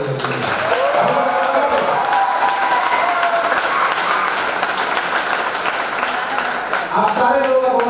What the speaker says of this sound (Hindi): एक जोरदार तालियां इन नए लोगों के लिए